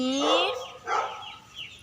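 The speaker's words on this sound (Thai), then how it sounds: "ก็อาจจะมีเสียงดังรบกวนนะคะ เพราะว่าหมาที่บ้านคือเห่ากันไม่ไหวเลยค่ะ" Dogs bark at home, a close, loud yelping volley followed by a softer bark and fainter yips.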